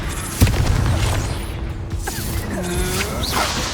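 Explosive Confringo spell in the game Hogwarts Legacy, a loud impact burst early on followed by crashing magical effects and whooshing sweeps, fairly close and sustained.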